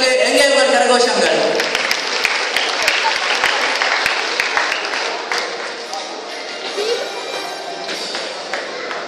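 Applause for winning students at a Royal College school prize-giving, a dense crowd clapping that starts loud and gradually thins and softens toward the end.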